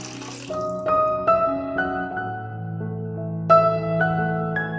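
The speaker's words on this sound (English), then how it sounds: "Now add water in a white pot" Water runs from a tap into a white pot for a homemade hair oil preparation, a steady close filling stream whose pitch rises in distinct steps as the vessel fills, with no talking.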